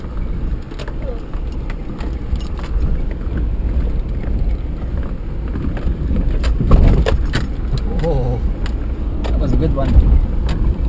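Off-road vehicle rolling through Limerick Forest in second gear, a low steady engine rumble with bumps and wind buffeting the mic, while people talk inside.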